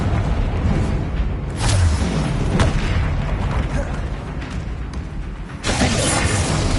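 Confringo blasting spell explosions in Hogwarts Legacy combat, loud booming bursts and shattering impacts over a dense continuous mix of game noise, with a sharp crack near the middle and another blast toward the end.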